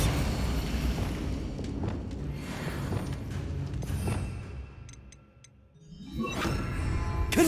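A Bombarda spell explosion from Hogwarts Legacy on PS5 rolls out as heavy booming rumble with scattered crackles, dipping briefly before a second blast swells at the end.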